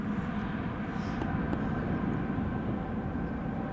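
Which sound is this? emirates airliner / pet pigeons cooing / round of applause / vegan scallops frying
emirates airliner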